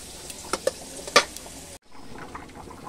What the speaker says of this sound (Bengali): আলাদা আলাদা করে একে একে সব সবজিগুলোই ভেজে নেব